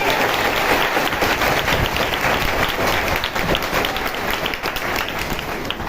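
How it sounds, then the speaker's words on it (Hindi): A congregation at a church prayer service applauds loudly, a dense and sustained wash of many hands clapping together that holds steady throughout with little other sound. "ताली बजाओ जोर से"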